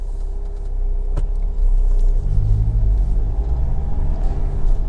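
A Honda CR-V 1.6 i-DTEC EX 4WD diesel slows and pulls over on the road, giving a low, loud rumble of engine and tyres that swells and settles over a few seconds.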